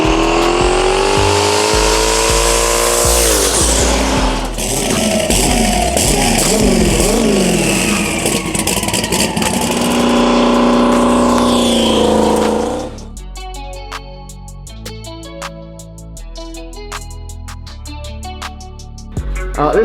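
A 1,200 horsepower Trans Am race car with a 388 cubic inch LS engine, 91mm turbo and Holley EFI revs hard and loud up close for about thirteen seconds, then drops to a quieter idle with clicks and knocks.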